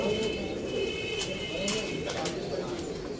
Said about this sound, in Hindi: बहुत नायाब दोस्तों माशाअल्लाह कबूतर